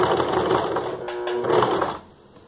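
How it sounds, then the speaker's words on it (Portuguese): A domestic sewing machine stitches the first few stitches of a buttonhole on fabric with a fast, steady mechanical whir and rattle, loud and close, then stops abruptly, leaving quiet. "no passo 1 do seletor eu faço alguns pontos para começar o caseado"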